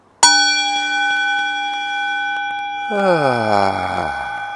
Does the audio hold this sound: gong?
yes